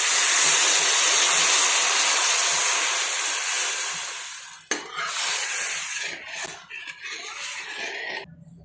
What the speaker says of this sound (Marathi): आता याच्यामध्ये आपण पाणी टाकून घेऊया।